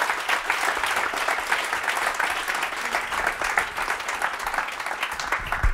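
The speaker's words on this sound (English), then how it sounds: "Last round of applause for Nicolas." A roomful of people at a design meetup claps in a dense, steady round of applause that stays evenly loud throughout without any talking.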